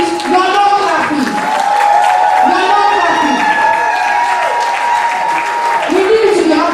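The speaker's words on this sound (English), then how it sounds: "Please clap." Audience clapping at a 2023 annual general meeting of an old students' association in New Bussa, steady applause filling the room while voices talk and call out over it.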